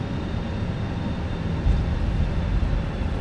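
Thrust reversers of a Fenix A320 airliner in Microsoft Flight Simulator roar at touchdown as a steady, loud broadband jet rush with low rumble, swelling slightly midway and holding without talk.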